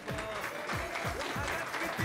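Audience applause for a performer at the close of a belly dance and oriental dance music show, a steady wash of clapping with low thumps and some voices mixed in.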